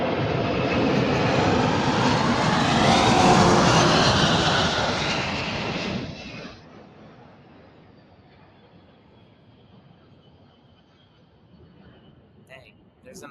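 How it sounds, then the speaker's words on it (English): An airplane passes overhead outdoors, a broad loud roar that swells for about six seconds then drops away abruptly, leaving faint background afterward. "Sorry about the plane, we'll let them go by."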